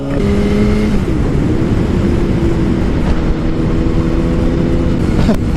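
A convertible driven by an older man speeds past on the road, heard as a loud, continuous roar of engine and wind with a falling tone at the start.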